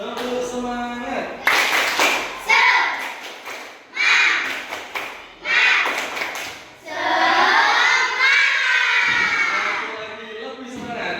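Fourth-grade pupils in a classroom performing the tepuk semangat clap chant, with repeated bursts of group clapping between loud, close choruses of children's voices.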